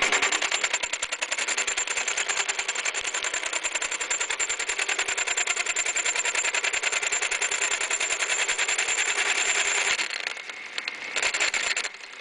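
A lathe spins a three jaw chuck being trued, a loud rapid mechanical rattle hammering on continuously, then briefly dropping in level before resuming.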